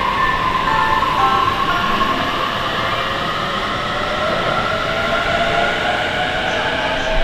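Japanese train ride heard from inside the carriage, a loud, steady rumble of wheels on rails with a droning hum running throughout, no voices.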